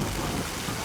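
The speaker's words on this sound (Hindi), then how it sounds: "हाँ, बारिश हो रही है." Steady rain and thunder rumble outdoors at an annual day event, a dense continuous wash of noise that holds at an even level throughout, with no voices over it.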